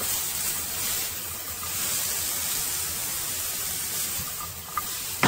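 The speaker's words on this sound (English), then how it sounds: "Now let's give them a nice little stir." Carrots and mushrooms sizzle steadily in a hot pan as they are stirred, a continuous broadband frying hiss with a few faint clicks of the utensil near the end, no voices.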